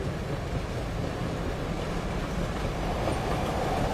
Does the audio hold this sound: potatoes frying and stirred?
no